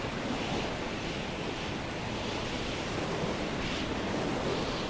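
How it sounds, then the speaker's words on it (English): Strong wind roars over crashing ocean waves in the Stormworks game during a ship sinking, a loud, steady broadband rush with slow swells rising and falling, no voices. "can you hear that? The wind is crazy."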